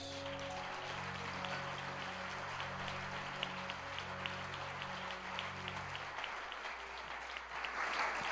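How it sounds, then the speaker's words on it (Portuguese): A church congregation applauds during a Sunday celebration service, quiet, steady crowd clapping over a sustained low organ or keyboard chord that fades out partway, the clapping continuing alone and swelling slightly at the end. "E louve a Deus mais uma vez com aplausos"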